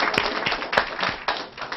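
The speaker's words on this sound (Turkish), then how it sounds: "Alkışlayın bu arkadaşı önce, ondan sonra Osman dayı." An audience applauds in a short burst of scattered claps, close and moderately loud, with uneven rhythm over under two seconds.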